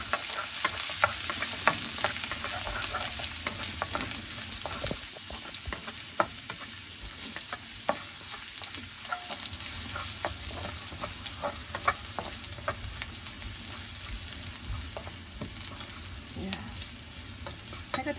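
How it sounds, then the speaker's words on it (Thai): Garlic sizzles in hot oil in a pan for a three-flavour fish sauce, a close continuous crackle with scattered pops and stirring scrapes, no voices over it. "ใส่น้ำมันลงไปค่ะ ใส่กระเทียมลงไปค่ะทาอันร้อนนะคะเ ราจะ คั่วกระเทียมให้หอมก่อนนะคะ"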